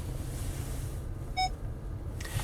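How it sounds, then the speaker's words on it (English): A single short electronic beep from the parking sensor of a 2010 Ford Fusion Hybrid sounds once over steady low rumbling wind-like noise, with no voices. "Parking sensors, as you can hear, beep at you"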